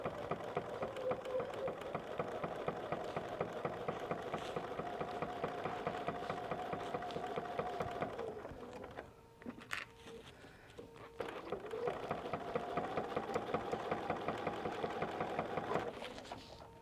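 A quilting sewing machine runs steadily while the fabric is held down hard, giving a sustained whining hum with a high squeal over a rapid stitching patter; the motor drops out briefly near the middle, then resumes just as loudly.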